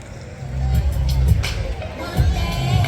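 A dense crowd murmurs and chatters at a campus event, with steady babble rising and falling and occasional louder voices swelling out of the hubbub.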